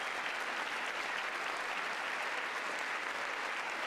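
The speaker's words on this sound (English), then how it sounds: "Why are we clapping?" Sustained applause from a State of the Union audience, dense, steady and loud throughout, with no break and no speech on top.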